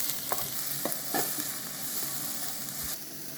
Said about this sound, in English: So I'm gonna add our onions here. And we start mixing them.